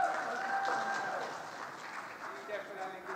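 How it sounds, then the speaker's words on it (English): An audience at a health and wellness conference claps in moderate, somewhat distant applause, with voices talking over and around it as it carries on. "So please give her a round of applause."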